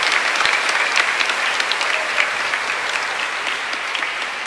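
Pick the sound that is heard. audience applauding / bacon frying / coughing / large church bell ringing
audience applauding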